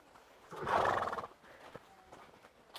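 A horse whinnies once, a loud close neigh of about half a second, followed by a few soft hoof knocks and quiet surroundings.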